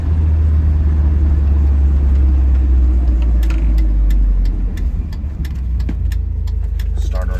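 A 1973 Alfa Romeo Spider engine revs loudly while driving around a neighborhood, a close, heavy continuous drone that eases slightly midway and is joined by sharp clicking taps near the end.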